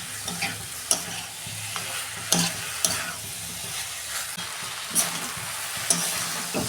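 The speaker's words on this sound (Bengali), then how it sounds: "এই যে আলুটাও দিয়ে দিচ্ছি। ভালো করে আমি কষে নেব।" Potatoes and cabbage stir-fry in a hot pan, a steady sizzle and hiss broken by sharp scraping clacks of a spatula every second or so, close and alone with no talk.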